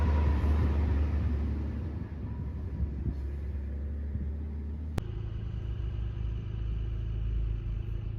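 Vehicle traffic on the narrow Gata Loops mountain road in Ladakh, with a steady low engine rumble and passing motor noise throughout, plus a single sharp click midway.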